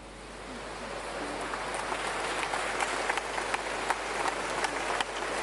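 Outdoor audience applause at an August event in Tigullio, a steady wash of many distant hands holding at an even level with scattered sharper claps poking through.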